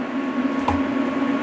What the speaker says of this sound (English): there's a joint right here. Give them a quick chop.